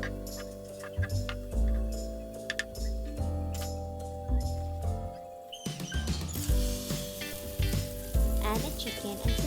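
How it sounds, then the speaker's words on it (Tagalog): Garlic sautéing in oil in a pan for chicken adobo, a loud, steady sizzle and crackle of frying that runs throughout, with occasional stirring clatter and no talking. "you have to saute the garlic in a pan with oil until light brown"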